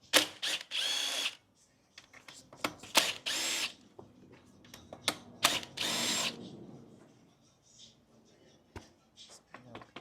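A power drill backs out battery box bolts on a Begode Race electric unicycle, with several short, loud whirring bursts separated by pauses, plus clicks and handling, while a person talks.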